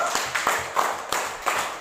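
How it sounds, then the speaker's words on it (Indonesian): A classroom group claps together for a team's answer, producing a few loose, fairly faint claps spaced across a short stretch. "Tepuk tangan untuk jawabannya."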